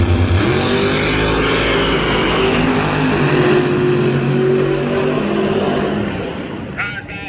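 An Outlaw Pro Mod drag race car accelerates hard down the Edgewater track, a loud, sustained, deep engine roar holding steady for several seconds before fading slightly at the end.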